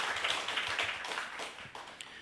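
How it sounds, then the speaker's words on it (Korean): Congregation applause in a Korean Full Gospel church service, a dense, steady wash of many hands clapping together, fairly distant and even, fading slightly toward the end. "하나님께 감사와 기쁨의 박수 드리시오"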